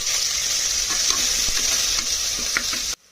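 Onion, mint leaves, green chillies and ginger-garlic paste fry in hot oil while being stirred, giving a steady bright sizzle broken by scattered scraping clicks from the spoon for about three seconds, then cutting off abruptly.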